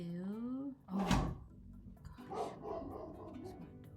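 A pet dog barks indoors, a sharp loud burst followed by softer muffled noises, with a person talking around it.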